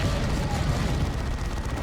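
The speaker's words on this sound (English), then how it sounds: "That Assault Cannon is deadly." Sustained heavy automatic fire from a Space Marine assault cannon in Dawn of War 2, a dense, continuous roar of rapid shots with rumbling low-end booms, loud and steady throughout without pause.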